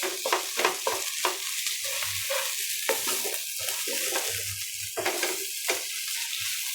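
Grated carrot halwa fries in a pan, with a steady sizzle under repeated scraping stirs of a spoon against the metal, close and fairly loud, with no speech.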